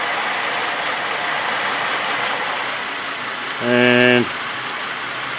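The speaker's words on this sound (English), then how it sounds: "now we've got a Misfire and we've got no drive" A VZ Commodore engine with a faulty engine computer idles with a misfire and no drive: a steady, loud, broadband rumble, with a brief voice heard over it near the end.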